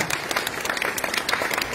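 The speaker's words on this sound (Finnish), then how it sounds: "Hyvät kuulijat ja katsojat, tästä aplodi" An audience breaks into steady, dense applause, with many hands clapping together at close range and no pauses.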